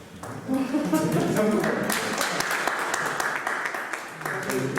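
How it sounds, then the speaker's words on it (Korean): An audience at a Korean maritime university forum gives a steady round of applause lasting several seconds, with a voice talking over it near the start and again as the clapping fades. "중간 박수 한번"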